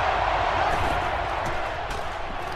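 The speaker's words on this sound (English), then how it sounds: "the crowd is just going ballistic in support of their defense right here on third and short" A stadium crowd roars in NCAA Football 12 during a third-and-short defensive stand, a steady dense wall of cheering noise held at constant loudness throughout.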